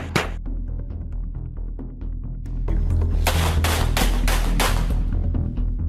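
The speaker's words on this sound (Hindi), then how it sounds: "राजदीप जटेजा ने अपने भाई के जन्मदिन की पार्टी में जमकर फायरिंग की" Celebratory gunfire at a birthday party in Rajkot: a long burst of rapid gunshots rings out close and loud, with a sharp crack at the start and a dense fusillade of repeated reports in the second half, over a low rumbling crowd background.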